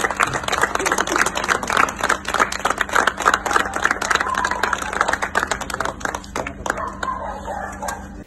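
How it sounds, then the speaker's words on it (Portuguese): Friends applaud as a body is carried out at Alto Alegre, a loud, close burst of uneven hand clapping that runs throughout, thinning toward the end. "os amigos aplaudiram a saída do corpo"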